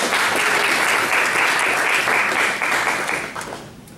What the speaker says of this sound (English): give them a round of applause for all that hard work that goes into it